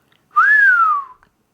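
A person whistles a single clear note that rises then gently glides down, loud and close, lasting under a second with silence around it.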